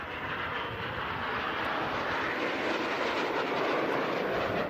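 An A-37 jet flies at an air show, slowing down for a pass, its broad roaring rush holding steady and fairly loud across the whole stretch with no voices.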